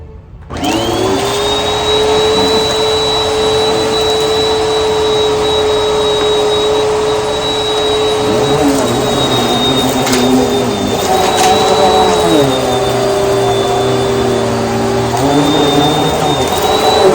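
A budget vacuum cleaner running on carpet at its highest setting, a loud steady whine and roar that holds throughout, with slight shifts in pitch toward the end and no talking.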